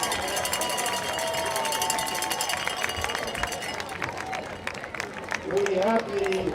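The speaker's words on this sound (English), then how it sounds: "how about another thundering, standing round of applause for the Patriot cheerleaders" A football game crowd claps and cheers for the Patriot cheerleaders as a broad, continuous wash of noise that swells slightly near the end, under an announcer's voice over the stadium speakers.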